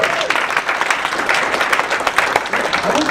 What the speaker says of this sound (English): Big round of applause for Dennis.